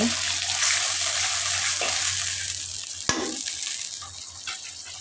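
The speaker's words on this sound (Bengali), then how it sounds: "দিয়ে একটু পানি" Water splashes into a hot pan of frying rohu fish curry with spinach, a steady broadband sizzle and bubbling that runs throughout, close and fairly loud, with a brief knock partway through.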